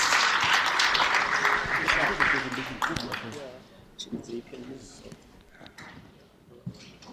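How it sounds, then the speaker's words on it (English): Loud audience applause welcomes a speaker to the stage at a workplace readiness training day, dense clapping that tapers off midway into sparse claps and murmuring. "let's give him another round of applause while he's coming out"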